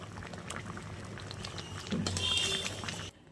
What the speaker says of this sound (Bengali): ঝোলটা অনেকটাই ফুটে এসছে